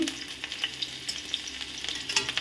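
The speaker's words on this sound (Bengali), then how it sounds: "এগুলো দিয়ে দিলাম তেলের মধ্যে, দিয়ে ভেজে নেব" Chopped onions frying in hot mustard oil with a dried red chilli, a dense crackling sizzle with small spits and pops, close and steady.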